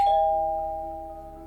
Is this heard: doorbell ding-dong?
yes